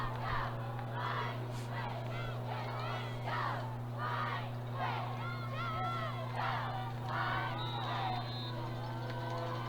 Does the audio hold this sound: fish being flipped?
no